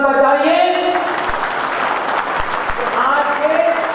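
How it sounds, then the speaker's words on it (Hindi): Audience applause at an outdoor public speech event in Akhnoor, Jammu and Kashmir: a dense wash of clapping from a crowd, with a few amplified voices fading in and out. "ऐसे लोगों को इतनी तालियां बजाइए"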